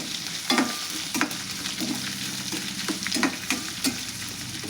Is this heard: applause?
no